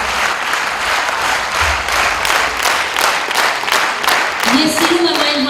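An audience in a concert hall applauding a folk singer (gusan), steady dense clapping from many hands throughout, with a voice rising briefly over it near the end.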